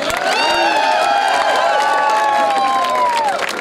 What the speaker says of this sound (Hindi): साहब के लिए जोरदार तालियां मारिए।